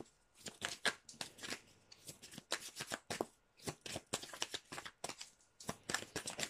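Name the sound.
shuffling oracle cards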